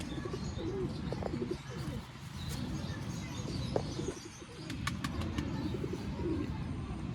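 Pigeons, including a female, coo softly and chirp close by over a constant rustling background, with scattered brief calls and a few sharp clicks, and no one speaking.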